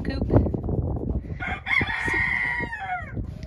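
Chickens cluck in a coop before a rooster lets out one long, loud crow close by, with a little background noise underneath.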